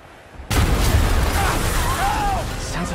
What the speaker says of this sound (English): Trapped by the last explosion.